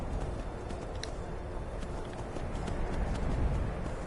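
Horse hooves pound steadily in the video game Skyrim, a continuous rumbling gallop at moderate volume with no talk over it.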